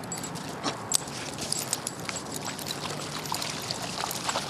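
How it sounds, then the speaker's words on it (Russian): Dogs let off the leash run and splash into the Dnieper river, giving steady watery sloshing and pouring with small sharp splashes, moderately close. "Как только спускают их с поводка, те бегут в воду."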